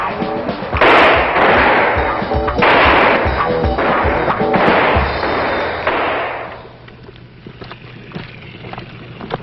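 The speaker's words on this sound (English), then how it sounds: "This is one of many opportunities the recruits will have to qualify with their rifle." Marine recruits fire rifles on a qualification range in a 1973 film, a run of dull, muffled shots and thumps that blur into one another, then fade to quiet after about six seconds.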